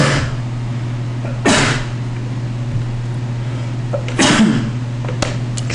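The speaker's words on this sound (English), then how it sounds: "That was me doing the sneezing." Two sharp sneezes from a person, one early and one later, loud bursts over a steady low hum during a card game session.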